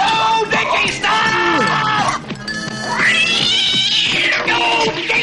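A cartoon cat meows loudly in a series of drawn-out, pitch-sliding cries, close and clear, with other voices speaking around it.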